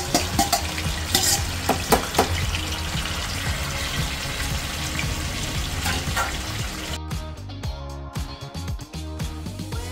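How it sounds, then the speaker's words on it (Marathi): Chicken pieces sizzle and stir in leftover oil from fried onions, a steady crackling fry with scraping of a spoon throughout, close and fairly loud, thinning out near the end. "त्या तेलातच आपण हे चिकन परतून घेऊया"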